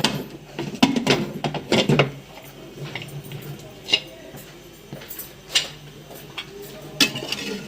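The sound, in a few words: opening a pressure cooker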